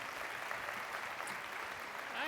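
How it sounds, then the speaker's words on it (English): A studio audience gives host Scott Bloom a round of applause, a steady, fairly faint wash of clapping that holds evenly throughout. "give a big round of applause to an amazing host, an amazing personality, Scott Bloom"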